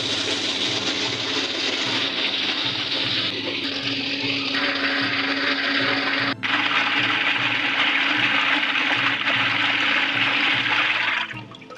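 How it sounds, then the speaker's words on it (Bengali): Water from an electric pump motor pours steadily into a tank fitted with a float switch, a loud continuous rushing splash with a faint motor hum beneath, no talking. "এখানে ট্যাঙ্কির ভিতরে পানি পড়তেছে"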